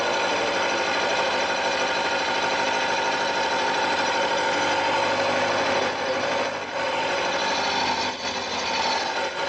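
A motorcycle engine idles with a fast, buzzing mechanical clatter, steady and close, dipping briefly a couple of times near the end.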